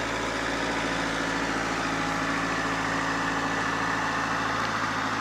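Kubota machine engine idling steadily nearby, a continuous low rumbling drone with a faint mechanical hum layered over it, unbroken and without talk.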